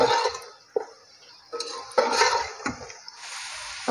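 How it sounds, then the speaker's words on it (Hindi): Noodles and vegetables for chicken vegetable spaghetti are stirred in a pan, with a utensil repeatedly clanking and scraping against the metal in irregular, close knocks over a faint sizzle. "मिक्स कर लेते हैं।"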